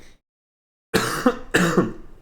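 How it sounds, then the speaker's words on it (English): Two harsh coughs from a man getting over a cold, in quick succession, close and loud, after a brief silence. "So forgive my coughing tonight."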